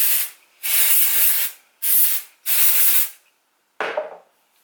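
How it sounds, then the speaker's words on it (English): Dry shampoo aerosol spray hisses in four sharp bursts around the top of the hair, close and loud, with short pauses between, followed by a brief rubbing sound at the end. "I'm going to take that dry shampoo again"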